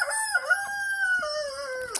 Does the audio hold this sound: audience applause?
no